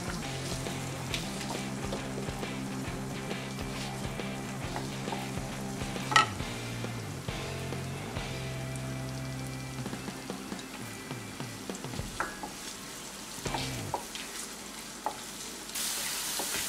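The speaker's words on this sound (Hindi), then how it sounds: "ऑयल में हम ये प्याज डालेंगे, जिसे हमने एकदम बारीक चॉप करके लिया है।" Finely chopped onions frying in two tablespoons of oil in a kadhai for dhaba style dal palak, a continuous close sizzle with occasional stirring scrapes and clinks, no talking.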